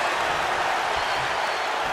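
In the wrestling video game WWE 2K24, an arena crowd sends up a dense, continuous roar of cheering and applause that fills the whole stretch, fairly loud with no clear voices on top.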